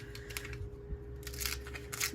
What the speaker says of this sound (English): May not be the best scissors to cut that with